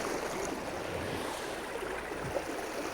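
Clear water of the River Spey flowing steadily, a broad, even rush of stream noise heard up close with no voices over it.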